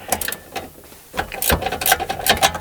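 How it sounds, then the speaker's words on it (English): Ratchet working 10mm bolts loose under the hood of a Nissan Skyline R33 GT-R: a few short bursts of close metallic clicking with small pauses between them, alone without talk. "I do see two 10mm bolts, and we're just going to remove those"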